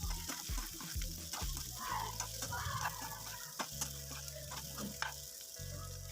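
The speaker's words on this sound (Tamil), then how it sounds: "நம்ம கலந்து வச்சுருக்கிற உருளைக்கிழங்கு இதில் சேர்த்து நல்லா பெரட்டி விட்டுடலாம்" Potatoes frying in a pan with mustard seeds, cumin and garlic, a steady close sizzle broken by repeated scraping stirs and low thumps of the spoon, with no talking.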